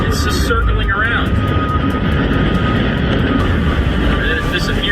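A large airplane circling overhead, a steady broadband engine roar holding loud and continuous throughout with a few faint high chirps near the start.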